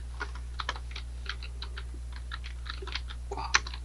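Someone types on a computer keyboard with a quick, irregular run of light key clicks over a low steady hum. A sharper keystroke lands near the end.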